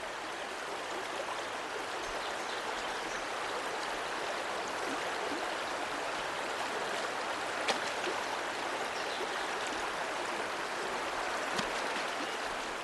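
Rushing river current and waterfalls in the Australian wild produce a steady, broad roar of churning water, constant and fairly loud throughout with only brief splashes breaking the wash.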